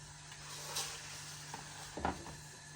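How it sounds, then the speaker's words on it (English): Soft hissing sizzle of sirloin steak frying in a hot pan, with a few clinks and scrapes of utensils. "just that sizzle as it hits the pan."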